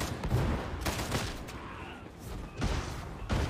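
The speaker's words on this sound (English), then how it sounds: "Okay, the burst gun is good on like individual enemies." Burst gun firing in the video game Darktide, rapid clusters of shots in several bursts over dense, noisy combat ambience.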